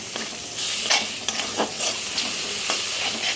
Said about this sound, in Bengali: আদা রসুনটাকে এর সঙ্গে একটু মিশিয়ে নিচ্ছি